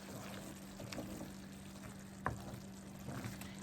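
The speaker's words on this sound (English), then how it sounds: "we're going to let this simmer, guys, until it reduces down" Curry chickpeas simmer quietly in a pot on low heat, giving off a faint, continuous bubbling sizzle with an occasional soft pop and a low steady hum beneath.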